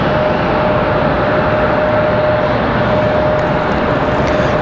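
A Republic Airways jet on departure for JFK at Raleigh Durham airport gives off a loud, steady, broadband engine roar with a faint sustained whine, unbroken and without voices.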